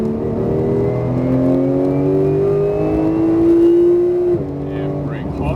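A Porsche 911 GT3 at full throttle on a racetrack, its engine note climbing steadily in a loud sustained rising whine that drops sharply near the end as the revs fall, heard close from the cabin.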